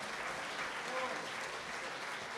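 A steady wash of loud, dense clapping rises from a crowd at a Mill Valley community talent show and carries on without a pause.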